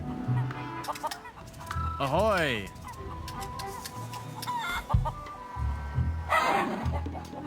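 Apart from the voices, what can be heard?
feral chicken clucking in The Curse of Monkey Island video game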